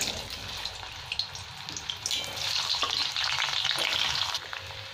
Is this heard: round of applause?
no